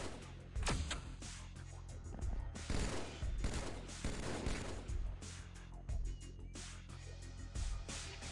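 Gunfire in a Doom-style shooter game while killing enemies: rapid bursts and sustained automatic fire, repeated volleys punctuating busy game sound, moderately loud.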